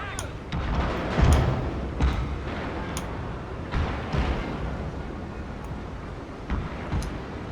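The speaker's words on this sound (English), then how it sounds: "the other gunboats have just kind of stopped and are going ahead and just firing at them from where they are" Naval gunboats and ironclads trade cannon fire in a Shogun II Total War sea battle, with repeated muffled booms and thuds at irregular intervals over a rumbling battle ambience.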